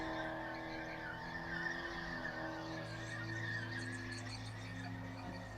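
A race car skids on a concrete pad with continuous tyre squeal, the tone steady and loud over a droning engine for several seconds, with no talk.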